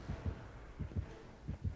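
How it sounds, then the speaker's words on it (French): Heartbeat sound effect in the video game Dead by Daylight, a steady series of low double thumps, lub-dub pairs repeating about every 0.7 seconds over a faint game hum, with no talking. "Pourquoi il y a du battement de cœur là?"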